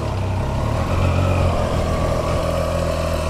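A Triumph Trident 660 motorcycle engine idles as it warms up, giving a steady, close, low rumble with a slight swell in the middle and no talking.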